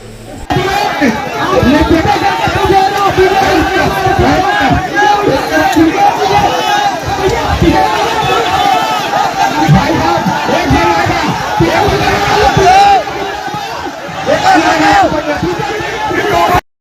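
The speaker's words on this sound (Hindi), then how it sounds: "हजारों की तादाद में जो भीड़ देख रहे हैं, ये OBC महासभा की भीड़ है" A large crowd of thousands at an OBC political rally in Sagar, Madhya Pradesh, fills the space with a loud, dense, continuous din of overlapping shouting voices that holds steady throughout.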